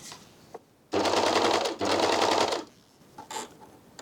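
Janome 2000D airthreader serger running at a set stitch length in two loud bursts of steady rapid mechanical chatter, separated by a brief pause, with quiet handling noises before and after.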